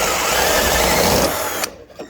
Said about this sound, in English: Let me speed up my drill a little bit